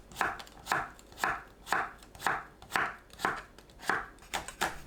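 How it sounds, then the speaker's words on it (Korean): A knife slices a halved cucumber on a cutting board into diagonal pieces, about ten steady, evenly spaced chops that are close and crisp, with nothing else heard. "어슷 썰어주세요"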